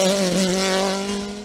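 A Tatuus Formula Master race car on a hill climb, its engine screaming at high revs in a loud, steady near pass that fades slightly at the end.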